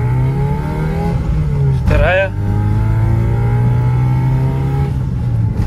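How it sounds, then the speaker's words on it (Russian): A 2011 Chevrolet Cruze with a 1.6 engine accelerates hard at full throttle, its engine note climbing steadily up close. It pauses for a quick gear change, then revs rising again through the next gear. A voice speaks briefly at the shift. "Попробуем сейчас нормально ускориться."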